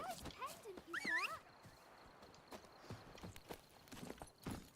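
Roach, the horse in The Witcher 3, walks with soft, faint hoof clip-clops under background ambience, opening with a brief rising whinny-like cry and scattered quiet steps.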